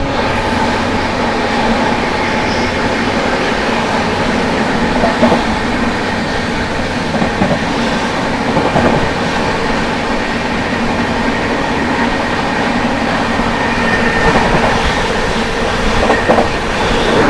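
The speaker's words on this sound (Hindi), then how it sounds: "लूप में खड़ी है कोई तो ट्रेन एंड ओवरटेक कर रहे हैं मगध एक्सप्रेस को" A fast train overtakes the Magadh Express standing in a loop line, a steady, loud roar of passing coaches with continuous clickety-clack wheel rhythm and occasional squeals, with no speech.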